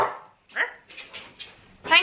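A domestic guard dog barks in a few short, close bursts, mixed with voices speaking in a home.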